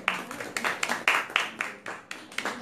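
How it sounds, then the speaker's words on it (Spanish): Applause from a small audience at the close of a philosophy dialogue: a dozen or so distinct, close claps in an irregular rhythm, fairly faint and sparse rather than a full ovation. "un aplauso para los compañeros por favor"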